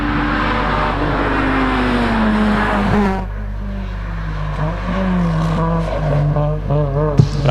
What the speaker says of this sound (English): a Toyota Celica coming through now